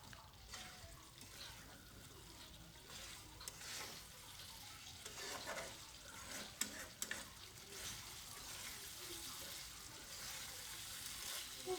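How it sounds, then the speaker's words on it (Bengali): Eggs and a spice mixture are sautéed in a pan while making biryani, giving a soft, continuous sizzle with scraping stirring strokes and a few light clicks of the utensil, fairly faint throughout. "ডিমগুলো দিয়ে আমি আবারও একটু কষিয়ে নেব।"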